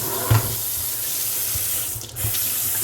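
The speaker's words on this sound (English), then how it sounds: "Hot water, make sure you got the hot and the cold right." Water runs steadily from a newly installed kitchen faucet into a sink, a continuous close hiss with a few brief knocks and a short dip in flow partway through.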